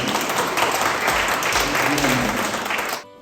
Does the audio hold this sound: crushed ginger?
no